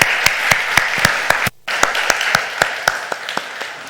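A church congregation claps at a Sunday service, a sustained round of applause with distinct rhythmic hand claps standing out, broken by a brief drop-out midway.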